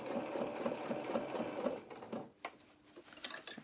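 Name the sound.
sewing machine top stitching an anorak hood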